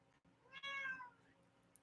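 A house cat gives a single clear, close meow with a rising-then-falling wail, preceded by a soft faint chirp, in an otherwise quiet room.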